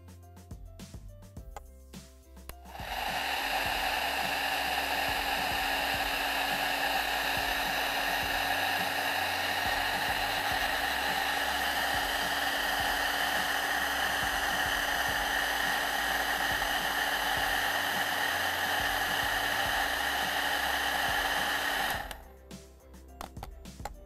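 A hot-air dryer runs steadily for about twenty seconds, drying layers of white paint on a hand-painted shop name sign, with a constant whining roar that starts and stops abruptly.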